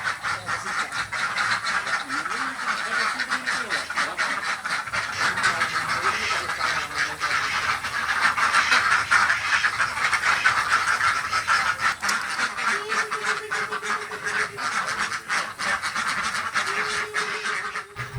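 Laying ducks on a farm in Gelebak Dalam village, Banyuasin, quack in a dense, continuous flock chorus, with steadier honking calls standing out near the end.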